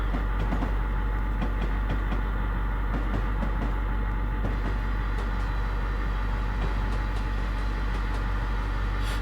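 A freight train rolls through Feather River Canyon in Train Simulator, giving a steady loud rumble and drone of engine and wagons that runs without a break and without talk.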